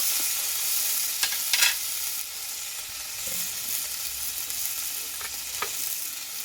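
Whole spices fry lightly in a pan with a steady, moderate sizzle. A few faint clinks of a utensil stand out over the hiss.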